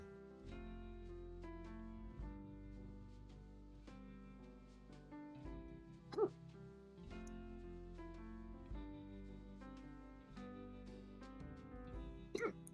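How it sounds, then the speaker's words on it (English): Sharp, sudden hiccups from a person, two or three isolated jolts spread through a quiet stretch over a soft background. "why do I get the hiccups?"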